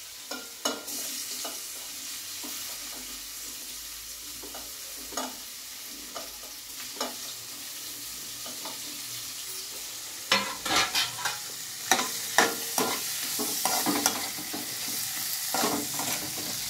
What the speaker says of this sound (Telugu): పన్నీర్ ముక్కలనైతే కొంచెం ఉప్పు, కొంచెం కారం, కొంచెం పసుపు వేసి కొంచెం ఫ్రై చేసుకోవాలి.